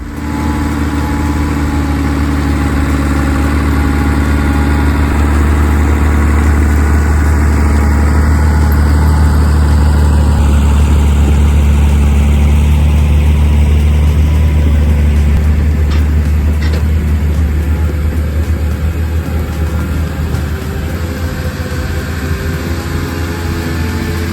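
A T170 bulldozer's diesel engine runs steadily up close, a loud heavy low rumble with a constant drone, the pitch shifting slightly as it revs, no voices.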